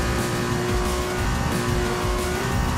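A Formula 2 race car runs a lap of the Bahrain circuit, its engine a loud, sustained high-revving roar close by, with no talking over it.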